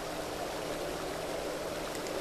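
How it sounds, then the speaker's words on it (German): Steady rushing water pours continuously in a video game, a soft even wash of flow with no breaks, moderately quiet and close. "Ach, und das Wasser fließt dann hier rein."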